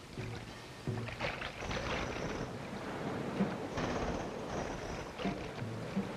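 A small boat is turned over and rowed through water in an old cartoon: splashy, sloshing water and wooden knocks with a couple of sharp bumps, fairly close and continuous, with no talking.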